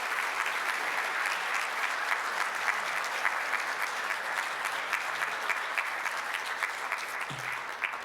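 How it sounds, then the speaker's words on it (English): Rotary meeting audience gives speaker Mary Miller a big round of applause, a continuous, full-bodied clapping from a roomful of people lasting the whole stretch without talk. "So let's give Mary Miller another big round of applause and appreciation."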